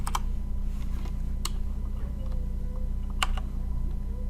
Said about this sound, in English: Maybe I'm actually typing that in wrong and I've got a typo.